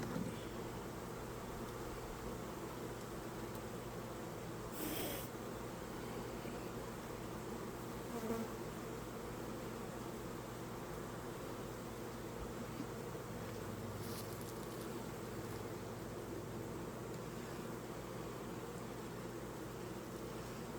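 Honeybees hum in a dense, steady swarm during an open beehive inspection. The buzzing is continuous and fairly loud and close, with no talk over it.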